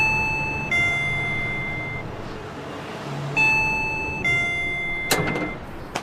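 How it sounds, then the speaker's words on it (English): A doorbell rings twice, each a sustained electronic chime with steady bright tones, the second following a short pause, over faint room noise and a brief knock or clatter near the end. "Go ahead and ring the doorbell."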